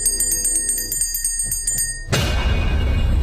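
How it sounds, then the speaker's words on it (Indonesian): A small bell rings in quick repeated jingles for about two seconds before a sudden loud burst of broadband noise takes over. "ia terbangun karena suara lonceng si ibu"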